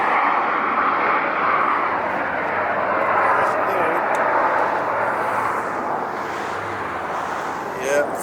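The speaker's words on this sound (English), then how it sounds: "he's taxiing slow" Lufthansa Boeing 747 taxiing slowly at LAX, a steady broad jet engine roar heard from a distance with little change throughout, with faint voices in the background.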